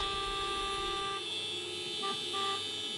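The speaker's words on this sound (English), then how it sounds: "you can still hear the folks here honking their horns, driving by and doing laps around Legislative Plaza" Car horns from protesters driving laps around Legislative Plaza toot in short bursts, several overlapping tones, at moderate distance over a steady traffic and crowd hum.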